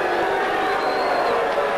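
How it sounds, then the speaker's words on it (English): Wrestling crowd at Festival Hall in Melbourne, an indoor pro wrestling bout, voicing displeasure in a steady dense roar of many voices, continuous and fairly loud for the whole moment. "Crowd, of course, remonstrating. They're not too happy about the tactics"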